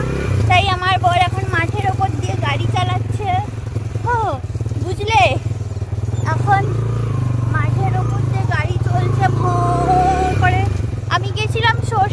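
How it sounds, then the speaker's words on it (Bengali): Motorbike riding through a field, a steady low engine drone running under continuous close talking throughout. "আমরা এখন মাঠের মধ্যে দিয়ে বাইক চালিয়ে যাচ্ছি"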